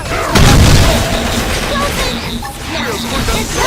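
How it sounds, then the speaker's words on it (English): A big explosion booms out in Xenoblade Chronicles X during a fight, a loud low burst up front that rumbles briefly and then gives way to busy game sounds and battle noise. "Wow, the big explosion sound."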